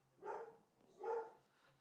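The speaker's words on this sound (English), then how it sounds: "That's the dog." Two faint dog barks about a second apart, distant and quiet, heard alone against a near-silent background.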